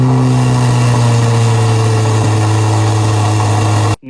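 A new Chevy's exhaust drones loudly and steadily with a deep, throaty engine hum, rising slightly before cutting off abruptly at the end.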